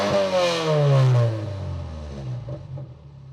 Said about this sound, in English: I'll go ahead and give it another rev, see how it sounds now that it's been clearing up for a little bit.